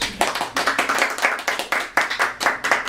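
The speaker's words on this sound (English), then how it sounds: "Feel free to clap." A small group claps in quick, uneven bursts for a few seconds after a persuasive speech, the sharp slaps loud and close with no talking.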